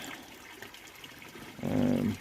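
Water running into a koi pond during a 50% water change, a faint trickle that swells into a louder, steady gush for the last half-second or so.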